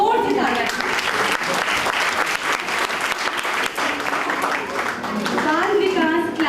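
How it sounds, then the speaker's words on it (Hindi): An audience claps loudly for children at a community celebration program, steady applause filling the room for several seconds, with voices mixed in. "प्लीज जोर से तालियां।"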